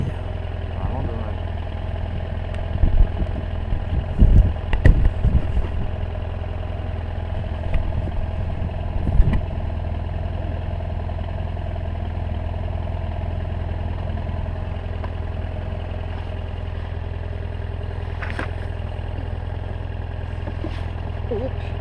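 A motorcycle engine idles in a low, steady drone on a wet, muddy off-road trail, with a few clattering knocks early on and people talking nearby.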